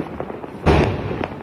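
A firework rocket launches with a sharp whooshing burst of hiss and crackle that swells and then tails off, close and loud over faint background noise.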